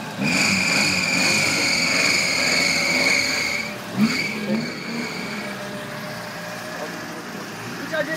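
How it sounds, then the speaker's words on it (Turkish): A car is heard as a continuous engine and road drone with a high whine for several seconds, then it fades off while people talk nearby. "Araba geliyor."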